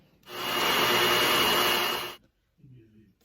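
A blender whirs loudly and steadily for about two seconds as it blends boiled ingredients for a homemade bad-breath remedy, then cuts off abruptly, followed by a brief voice.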